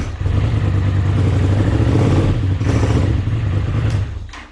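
Cold Honda CX500 twin motorcycle engine running on choke, a steady close-up idle with a mechanical clatter that drops away near the end.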